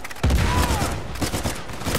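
Shotgun blasts in Uncharted 4 multiplayer, a loud sharp report around the quarter-second mark followed by further gunfire and a busy game mix through the rest.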